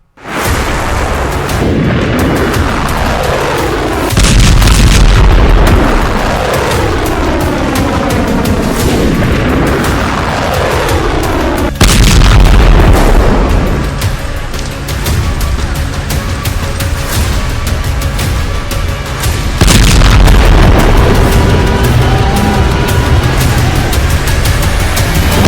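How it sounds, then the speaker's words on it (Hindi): Hezbollah missile strikes landing in Israel near Haifa: a series of loud, heavy booms with long rumbling tails, several separate blasts a few seconds apart, close and powerful with no talk. "इजराइल पर हिजबुल्लाह की फादी मिसाइल गिरी"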